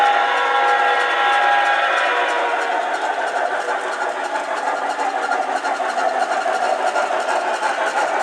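A small model train locomotive runs steadily with a continuous whirring motor hum and light rhythmic clicking along the track, no voices.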